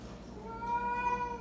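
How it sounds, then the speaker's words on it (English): A house cat gives a single drawn-out meow that rises in the middle, close and fairly quiet indoors, with no talking over it. "Call that cat."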